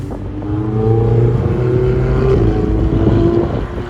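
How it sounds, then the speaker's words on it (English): Ferrari supercar engine on a race track in Las Vegas, a steady sustained roar with gear-like pitch sweeps rising and falling, heard from a distance under wind buffeting. "Let's hear that engine on the track."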